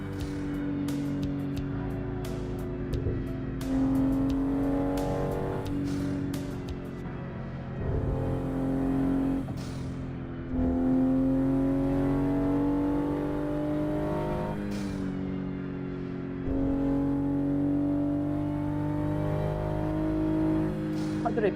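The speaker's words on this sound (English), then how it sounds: "cars are just blowing through the road there." Cars drive past on a road in the American Truck Simulator video game, a steady engine drone with pitch rising and falling as vehicles pass, close and continuous for about twenty seconds with a few brief dips.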